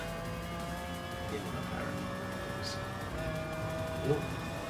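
A BMW race car in GT Sport roars past with faint tire squeal amid other racing engines, a moderate continuous engine drone under commentator talk.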